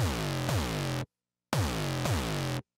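Two sustained synthesizer notes built for sound design, each about a second long with a pitch swoop partway through, separated by a short silence and heard alone.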